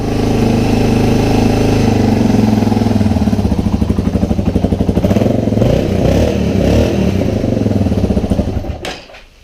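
A Yamaha XT225 motorcycle engine idles nearby after a carburetor clean, a loud, steady single-cylinder chug with a rhythmic pulsing beat that fades and stops at the end.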